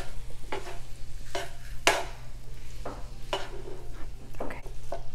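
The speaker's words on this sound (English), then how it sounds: "keep mixing the beef every couple minutes as it's cooking" Ground beef frying in a pan for beef stroganoff, stirred with a utensil in a steady series of scraping strokes over a low constant hum, with no one speaking.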